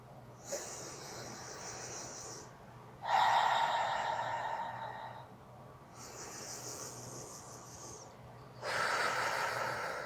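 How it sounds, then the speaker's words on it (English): Slow, deliberate breaths in through the nose and out through the mouth during an energy-healing routine, alternating inhales and exhales in a steady rhythm, close and clear with no talk. "don't forget about breathing in through the nose, out through the mouth"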